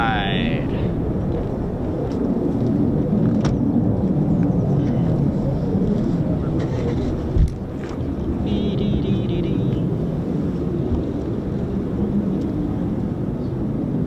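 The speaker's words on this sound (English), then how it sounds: "I can actually hear more engines spooling in the distance" F-15 and F-35 fighter jets at RAF Lakenheath produce a steady, distant jet-engine roar that fills the whole clip, with wind noise and no talking.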